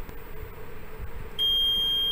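The buzzer on a fire pump control panel sounds during an overcurrent test, a steady loud electronic tone that starts abruptly partway through and holds over a low mechanical hum.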